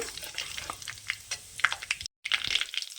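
Whole cumin and five-spice seeds fry in hot oil with close, irregular crackling and small pops, broken by a brief silent gap near the end.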